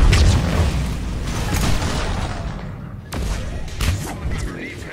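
A biotic explosion in Mass Effect bursts with a loud, deep boom, its rumble trailing off before a second thumping impact follows amid ongoing combat noise.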